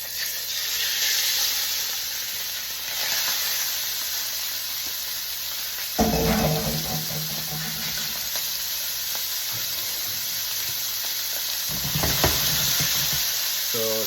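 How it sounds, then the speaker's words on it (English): Shrimp frying in a pan, a loud continuous hiss and sizzle that surges as more food is added, with stirring scrapes close by. "Shrimp going in."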